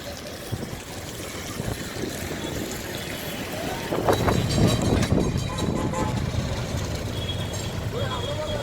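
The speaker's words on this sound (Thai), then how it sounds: "อันนี้เป็นรถรางเขานะครับ รถรางกำลังมาส่งคนนะครับ" A tram rumbles past on a busy street, its heavy rolling noise swelling midway and then easing, with traffic din and a voice talking.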